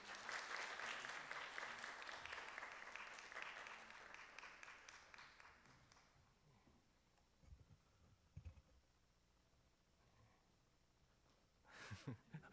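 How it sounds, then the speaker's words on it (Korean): Church congregation applauding to welcome a guest onto the stage at a Sunday afternoon worship service, a dense burst of clapping that fades out over several seconds, followed by near quiet with a few faint stray sounds. "박수로 환영해 주십니다"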